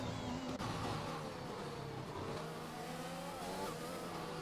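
F1 race cars in a video game at the Russia circuit scream past at full throttle in a continuous, loud, high-pitched engine drone with shifting tones, and no voices are heard.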